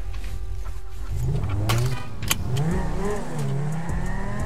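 A car engine in the GTA roleplay game revs up and accelerates with rising, climbing tones over about four seconds, steady and fairly loud, with no talking.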